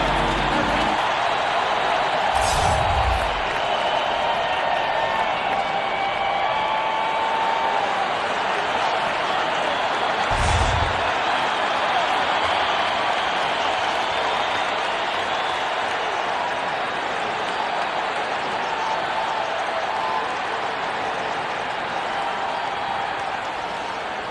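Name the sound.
arena crowd in basketball video game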